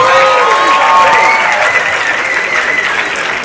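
Loud, sustained applause fills a hall as an audience welcomes writer and poet Alice Walker, with a little cheering mixed into the dense clapping throughout.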